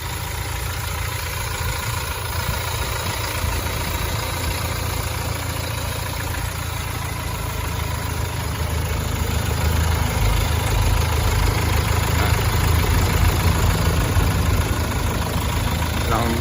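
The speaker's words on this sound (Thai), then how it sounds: "เสียงเครื่องยนต์ยังหวานอยู่นะฮะ" A Toyota All New van engine with about 40,000 km on it idles in a steady, continuous low rumble for the whole stretch, growing slightly louder toward the end.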